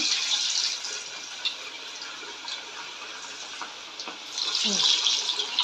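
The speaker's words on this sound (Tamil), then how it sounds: "எண்ணெய் காஞ்சிருச்சு. இப்போ போடுற மீன் ஒவ்வொன்றா." Fish pieces fry in hot oil for fish curry and fried fish, making a bright, continuous hiss up close. The sizzle swells louder near the end, with faint kitchen clatter mixed in.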